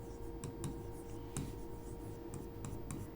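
A pen or chalk writes on a board during a math lesson, scratching out several short strokes. The strokes are faint and close, with a steady low hum beneath them.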